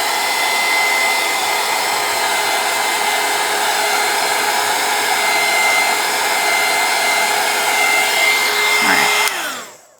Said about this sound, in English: I'm going to go ahead and hit this with the dryer again real quick.